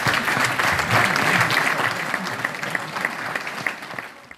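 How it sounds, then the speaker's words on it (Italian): An audience at the Festa di San Sebastiano in Agropoli applauds, a loud, dense burst of clapping that gradually thins out and fades toward the end. "vorrei che ci dedicassimo tutti un applauso"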